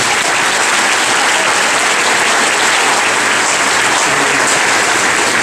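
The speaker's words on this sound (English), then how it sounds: "Let's give them a round of applause again." A crowd at a middle school graduation ceremony applauds the graduating eighth-grade class, loud, dense and continuous clapping filling the whole stretch without pause.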